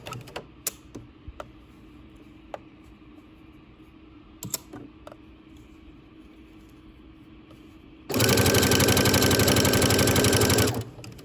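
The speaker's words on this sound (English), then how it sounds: "we'll go to the machine and sew 1 stitch all the way around" Scattered clicks and small handling taps of pinned fabric lead into a loud, steady run of a sewing machine joining a maxi dress bodice to its skirt, stitching continuously for about three seconds before stopping.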